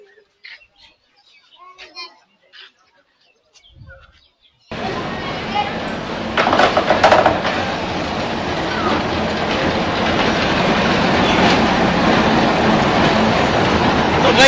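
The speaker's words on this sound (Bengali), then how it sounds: "তো গাইস দেখতে পাচ্ছেন আমাদের সামনে একটা ট্রেন আসলো।" A train pulls into Sonatala railway station in Bangladesh, its loud rumble and clickety-clack rising suddenly after a quiet start with birdsong, then holding steady and close.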